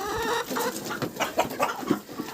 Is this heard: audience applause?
no